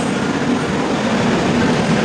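Steady rumble and hum of a metro train at a station, loud and continuous with a low droning tone and no voices.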